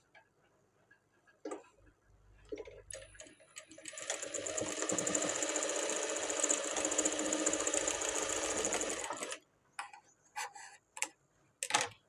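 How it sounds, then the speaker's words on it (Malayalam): A sewing machine stitches the front piece of a blouse, reverse-stitching at both ends. A steady, close whirring run lasts about six seconds, with scattered clicks and handling noises before and after. "ഇത് 2 എൻഡും റിവേഴ്സ് തയ്യലിട്ട് വേണം എടുക്കാൻ."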